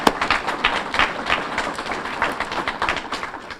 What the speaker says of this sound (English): I give you a round of applause for joining us